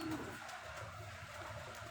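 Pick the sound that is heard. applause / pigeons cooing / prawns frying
pigeons cooing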